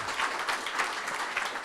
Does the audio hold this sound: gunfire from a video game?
no